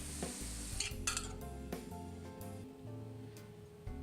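A pat of butter melting into pork medallions in a pan of reduced sauce, a soft continuous sizzle punctuated by light clinks and scrapes of a utensil stirring against the pan.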